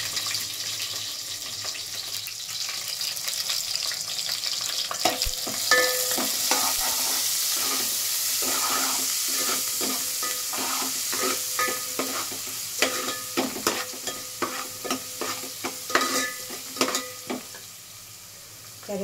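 Green chillies and salt frying in a pan, a continuous hissing sizzle with scraping stir strokes and clinks growing more frequent toward the end, close up and without speech.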